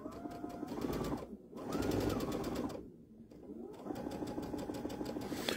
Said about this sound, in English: Put my foot down, start stitching